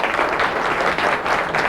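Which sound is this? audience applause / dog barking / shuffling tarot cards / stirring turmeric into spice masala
audience applause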